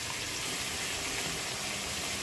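A small amount of water pours steadily into a kitchen mixer-grinder jar while a chicken dish is being made. The soft, even gushing runs quietly and continuously, with no talking.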